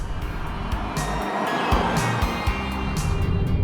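A Honda Accord Hybrid in sport mode is driven hard through corners, its engine and road roar steady and fairly loud, with brief surges and a few bright tire-squeal or wind bursts along the way.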